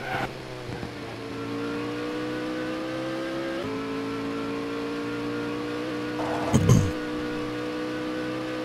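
A Grinnall Scorpion race car engine in TOCA 2: Touring Cars on PlayStation drones with a steady, buzzy harmonic tone. It shifts pitch in gear-change steps, and a brief impact-like burst near the end rises above it.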